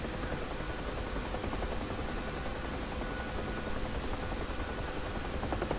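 A Huey helicopter in the DCS flight simulator drones steadily with a continuous rotor and turbine wash, moderately quiet and unchanging throughout.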